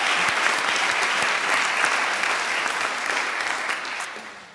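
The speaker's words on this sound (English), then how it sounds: "So we can give Nora a clap." A room full of people claps steadily for several seconds at a faculty convocation, the applause dense and even before tapering off slightly at the end.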